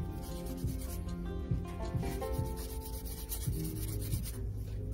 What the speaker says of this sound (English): And see, that's all you have to do for filing.